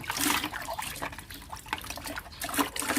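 Water poured from a bottle to rinse, splashing and trickling steadily in a nearby, moderately loud stream with brief pulses throughout, with no voices.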